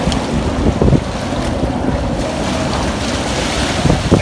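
Wind gusts and ocean surf at Rockaway Beach, New York, make a loud, constant roar with heavy wind buffeting on the microphone and no voices.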